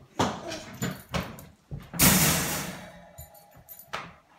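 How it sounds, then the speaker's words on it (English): A dog indoors whimpers and gives a few short barks and yips in separate bursts, one longer, noisier outburst in the middle, fairly close. "Trying to shut my dog up there."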